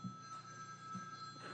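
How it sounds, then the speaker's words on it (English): A telephone rings faintly in the background of a council meeting room, a thin steady electronic tone over low room hum, with no talking. "Somebody can answer the phone."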